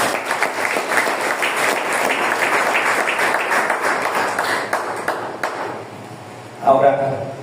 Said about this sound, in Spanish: Dale palmas al Señor, aleluya.